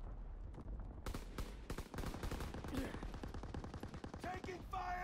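Dense bursts of rifle and machine-gun fire crackle in rapid volleys during a World War II video game battle, loud and continuous with a few sharp single shots mixed in.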